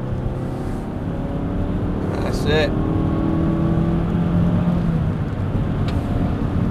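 A Mazda3 accelerates at full power in third gear around the Silverstone circuit, its engine a loud, steady drone that slowly climbs in pitch, heard from inside the car with a brief spoken phrase.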